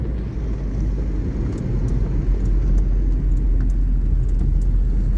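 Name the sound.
1980 Renault 6 TL car driving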